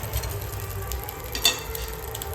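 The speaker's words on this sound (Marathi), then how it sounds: "आता मम्मी ते फ्राय करते हां" Modak filling frying in a pan at home, a steady low sizzle and stir noise running through, with one brief clatter partway.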